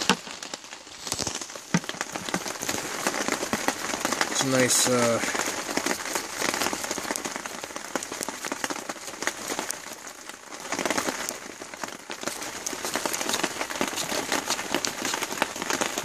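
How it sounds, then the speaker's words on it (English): Rain patters steadily at a wet March campsite at Coyote Creek, a dense, close hiss with crackling drops, while people talk briefly over it. "I probably hear the rain."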